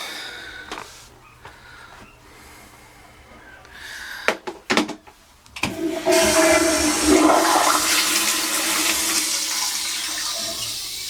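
A Sloan flushometer toilet that leaks at the base flushes with a loud, forceful rush of water that swirls steadily for several seconds after a few clunks and knocks.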